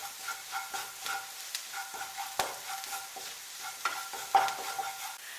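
Chicken cutlet mixture fries in a pan while it is stirred repeatedly. Soft sizzling runs under rhythmic spoon scrapes and taps against the pan, with an occasional sharper knock, all close up and fairly quiet.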